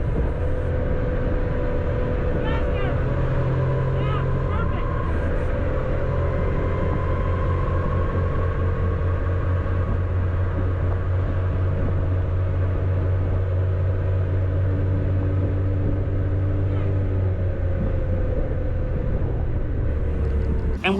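A 60-volt X Class electric scooter rides at high speed, giving a steady loud roar of wind and road noise with a faint motor whine rising and falling now and then, no speech.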